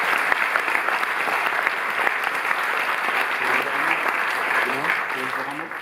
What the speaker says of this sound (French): Je peux l'applaudir chaleureusement.